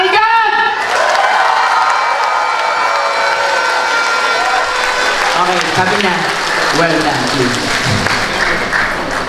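An audience at a 13th anniversary event applauds and cheers in a steady wash of clapping and shouts that lasts the whole stretch, with a host talking loudly over it throughout.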